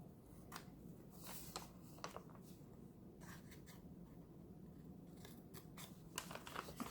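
Scissors cut through a paint chip tag of thin card for a junk journal, making repeated crisp snips close up and fairly quiet, with no talking.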